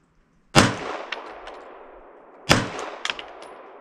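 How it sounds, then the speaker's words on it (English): Glock 45 MOS pistol fired outdoors on a range: two sharp, loud shots about two seconds apart, each with a ringing tail and a few small metallic clinks after, no talk. "first I'll take a few shots just to make sure it's still on."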